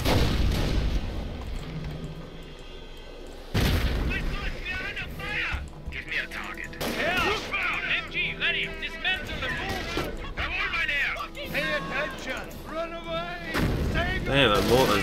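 Mortar fire in the World War II strategy game Company of Heroes, with heavy booming impacts recurring amid game voice lines and overlapping talk throughout.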